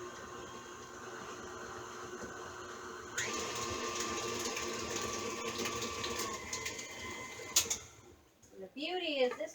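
An electric mixer blends flour into pumpkin peanut butter dough for dog treats, a steady mechanical whir that jumps louder partway through and runs continuously, then cuts off near the end as the room goes quiet.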